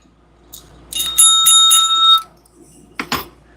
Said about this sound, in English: Here's my happy face bell.